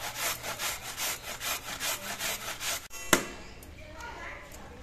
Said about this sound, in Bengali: এই ঘষনি দিয়ে মূলো ঘষতে কিন্তু একদমই সময় লাগে না